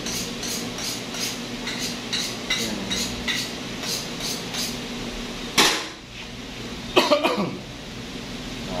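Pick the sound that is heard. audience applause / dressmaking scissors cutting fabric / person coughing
person coughing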